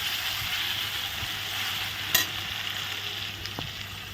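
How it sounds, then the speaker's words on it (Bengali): Potato pieces frying in a pan with salt and turmeric give off a steady, soft sizzle, with a light stir or clink partway through and no talking. "লবণ হলুদ দিয়ে আলুগুলো ভেজে নিচ্ছি"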